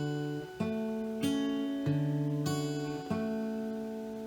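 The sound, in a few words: fingerstyle guitar pinch on two strings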